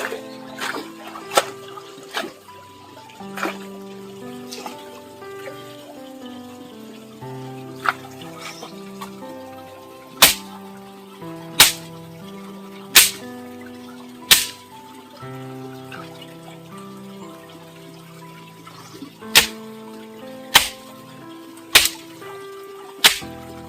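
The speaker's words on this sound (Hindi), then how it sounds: "अभी इनको झपोड़ना पड़ेगा एकदम साफ पानी से" Items being beaten and rinsed clean in cold stream water, with sharp slapping strikes recurring every second or two over a continuous trickle and splash of flowing water.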